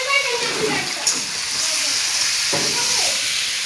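Meat sizzling in a pan on a home kitchen stove, with a loud steady hiss and sputter throughout and a few stirring clatters.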